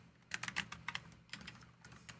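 Quick bursts of keystrokes on a computer keyboard, close and crisp, in two short runs of rapid taps with a brief pause between, no voices.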